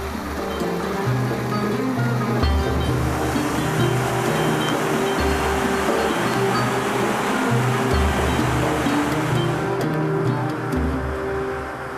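Steady broadband rush of flowing water fills the whole clip, loud and continuous, a river in Patagonia's Paine Circuit running close by with no voices.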